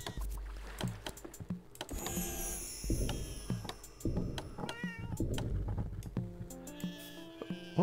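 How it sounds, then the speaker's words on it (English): Cartoonish cat meows from a card game set among ocean and boat imagery, several short tonal calls over a busy backdrop of game music and effects. "What was that cat?"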